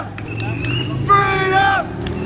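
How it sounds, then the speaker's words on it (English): A crowd of protesters chants while marching along beside passing traffic, shouted voices swelling in a loud burst near the middle over a steady rumble of babble and road noise. "They chanted as they walked and got a lot of support from passing traffic."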